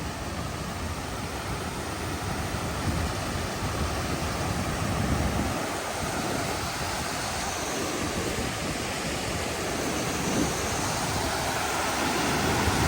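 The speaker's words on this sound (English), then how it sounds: "Lovely, lovely sound of the water." A rain-swollen stream rushes nearby, a constant broad roar of churning water with no pauses and no voices.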